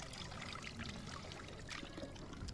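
Water splashing and trickling from a free public drinking fountain in Switzerland, a steady close, continuous pour with no talking.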